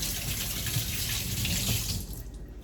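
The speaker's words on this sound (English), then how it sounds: "let me wash my hands" Running tap water pours steadily as hands are washed at a kitchen sink, a continuous close splashing rush that stops just before the end.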